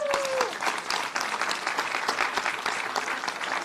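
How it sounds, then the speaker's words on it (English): An audience at a mayoral press conference on summer safety breaks into steady applause, a dense wash of clapping from a modest crowd that holds at an even level for several seconds. "let's give her a round of applause."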